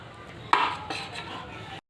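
A lump of jaggery is grated fine for lemon pickle, giving a sudden close scraping rasp followed by a few quieter strokes before stopping abruptly.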